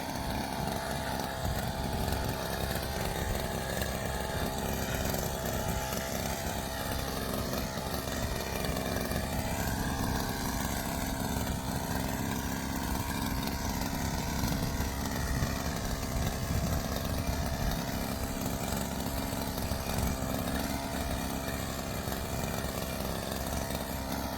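A small engine-powered sprayer runs steadily in a rice field while herbicide is sprayed, a continuous loud buzzing drone like a chainsaw or two-stroke motor lasting throughout without pause.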